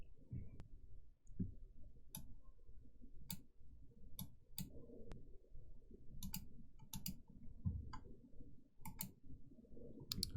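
Sparse, crisp computer mouse clicks in a quiet room while working in the Unity editor, a dozen or so sharp single and double clicks spaced irregularly over a low murmur.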